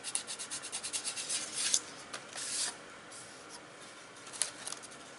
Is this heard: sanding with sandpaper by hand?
yes